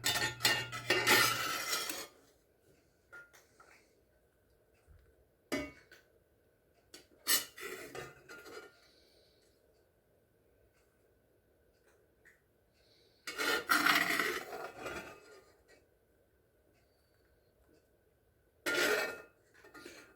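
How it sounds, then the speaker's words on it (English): A metal utensil scrapes and clanks against a cast iron pan while a hot tomato pie cooks, in a few short loud bursts separated by quiet stretches, close up and with no speech. "I really don't like using metal utensils on my cast iron"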